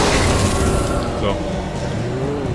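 A car driving in the Alan Wake video game, its engine droning loudly and continuously up close, with someone talking over it.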